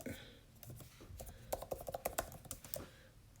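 Quick bursts of keystrokes on a computer keyboard, close and quiet, with irregular clusters of clicks and no voice.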